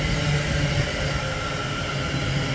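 A Class 350 electric multiple unit runs through Berkhamsted station on a service to Milton Keynes, giving a steady, loud rumble with a low motor hum and a continuous whine, close by and unbroken for the whole moment.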